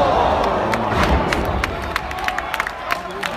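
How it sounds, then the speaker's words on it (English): Cheering crowd in a WWE NXT wrestling arena in Las Vegas, a steady loud roar with scattered claps and shouts, while a commentator speaks on top. "There goes the crowd, ladies and gentlemen."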